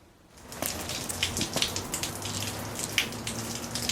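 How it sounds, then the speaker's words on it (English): Melting snow drips outdoors, scattered wet plinks and soft taps at uneven intervals over a faint, quiet background, with no voices. "You can hear the dripping because we've had snow and now it's melting"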